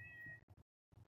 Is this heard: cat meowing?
yes